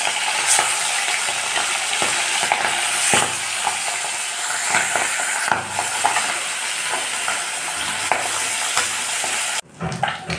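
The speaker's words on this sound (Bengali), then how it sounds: "মাছগুলো আমি ভেজে নেব।" Fish frying in hot oil in a heated kadai gives a loud, continuous sizzle, with occasional stirring scrapes and crackles throughout and a brief dip near the end.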